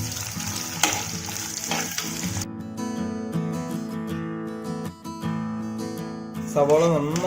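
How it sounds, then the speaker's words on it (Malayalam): Onions sizzling in oil in a clay chatti while being stirred for a curd moru curry, a close, continuous frying hiss broken by scraping stir strokes and a brief voice. "ഇനി സവോളയും ചേർത്ത് നന്നായിട്ട് അങ്ങ് ഇളക്കുക"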